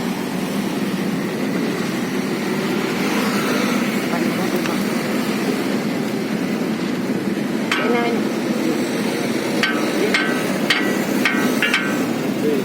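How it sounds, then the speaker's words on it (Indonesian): Sharp metallic hammer blows strike a broken car axle shaft in a workshop. A few isolated knocks come first, then a quick series of five strikes, over a loud steady engine-like drone, with people talking. "tinggal ketok aja. Itu aja pakai palu ya"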